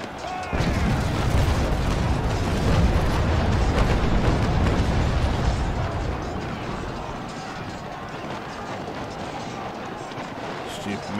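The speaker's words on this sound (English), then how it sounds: "There you go, they've done fire deck guns." Warship deck guns fire in the Naval Action sailing game, a dense, heavy barrage of booming cannon shots rolling over one another for several seconds before the roar settles into a steady rumble, with talk layered over it.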